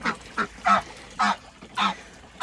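A pet goose gives a series of six or seven short, nasal honks at a steady, uneven pace, heard close by with no talk.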